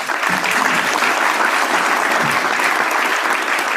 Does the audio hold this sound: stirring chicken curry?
no